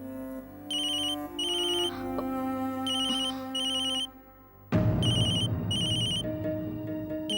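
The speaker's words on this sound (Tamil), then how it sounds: "சம்மந்தி அம்மா தான் ஃபோன் பண்றாங்க." Melodic electronic phone ringtone sounding for an incoming call, a repeating bright chiming pattern in bursts that continues over low background music throughout.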